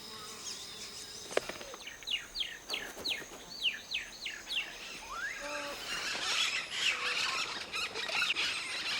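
A flock of yellow-rumped caciques gives rapid repeated squealing whistles and chattering calls over a steady insect buzz, growing busier toward the end.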